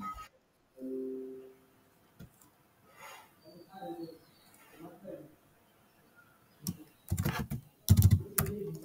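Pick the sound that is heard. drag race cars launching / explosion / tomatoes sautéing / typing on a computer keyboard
typing on a computer keyboard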